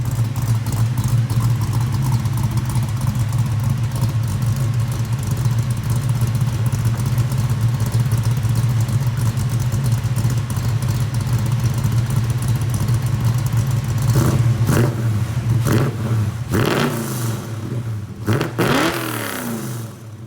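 A 1965 Mustang V8 with a Foxbody-style full exhaust and Jones straight-through mufflers idles with a deep, steady rumble up close, then blips the throttle in several sharp revs near the end.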